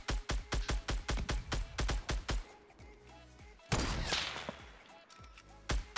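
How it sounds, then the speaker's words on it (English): A quick string of about a dozen evenly spaced, loud gunshots in Fortnite as a player fires at a tree, then a crashing burst and a couple of final shots, with no talk over them. "I'm gonna shoot the tree down."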